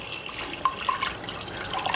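Soaked rice and water being poured into a pot for egg biryani, giving a soft, brief splashing pour with a few liquid plops. It is fairly quiet and close, with no talking.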